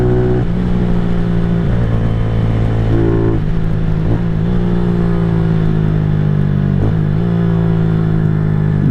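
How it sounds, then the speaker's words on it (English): A KP Mini 150 motorcycle fitted with a new muffler runs steadily while being ridden, its loud, buzzy exhaust drone holding mostly even with a few brief throttle dips and rises. "Exhaust sounds good,"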